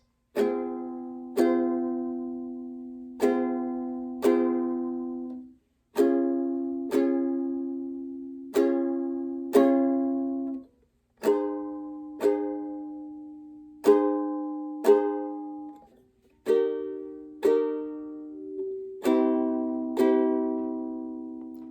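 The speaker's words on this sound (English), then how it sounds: "The next strumming pattern is 4 down strums on each chord" Slow, evenly spaced ukulele down strums, each chord ringing out and fading before the next, played alone and close.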